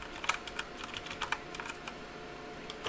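Typing on a computer keyboard in Windows 10, rapid uneven clicks of keystrokes close to the mic, with a steady faint background hum and no talk.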